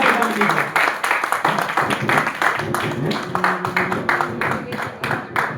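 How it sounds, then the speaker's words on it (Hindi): An audience at a Hindi poetry recital applauds, loud and steady clapping from a crowd, with a voice speaking over it. "अपने लिए एक बार तो जोरदार तालियां बजा लीजिए"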